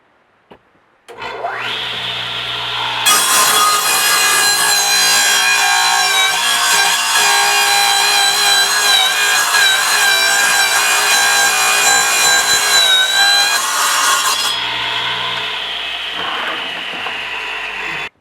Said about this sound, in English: I need to trim this 2x4 this much shorter. So I'm going to put that right on the blade.